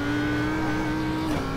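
A race car in a racing video game on the Nordschleife accelerates with a steady, close engine drone whose pitch holds high and nearly level before dipping slightly near the end.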